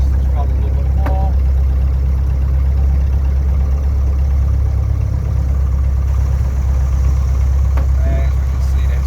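AVserv 200E engine running loud and close with a strong low, steady drone, its pitch holding fairly even as the throttle is opened a little, with a few faint knocks over the top.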